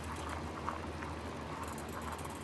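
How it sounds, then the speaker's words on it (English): Butter and water boil in a pot for cream puffs, giving a steady bubbling, crackling simmer that stays even and moderately close throughout, with no voices. "I'm going to, it's boiling."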